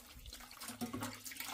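Hot water pours and splashes while a freezer is cleaned, a faint, continuous watery trickle with small bursts of splashing throughout.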